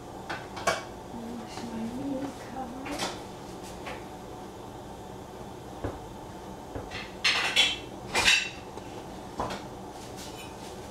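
Metal pot lids clink and clatter in a home kitchen during a search for the right-sized cover for a breakfast pot, with scattered close knocks and a louder cluster of rattles late on, and faint voice in the background.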